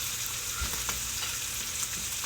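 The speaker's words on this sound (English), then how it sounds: "I cook it a little bit first in two other pans, and then I finish it up in the cast iron because it sears it good" Philly cheesesteak meat sears in a cast iron pan, giving a continuous crackling sizzle and spatter close by, with occasional soft stirring scrapes and no talking.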